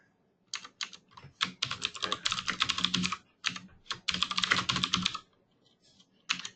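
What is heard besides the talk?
typing on a computer keyboard during data entry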